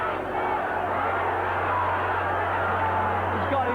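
A small group of British fans cheering in a Mexican bullring at a boxing match, a steady roar of distant crowd noise with a low hum underneath and a commentator talking over it.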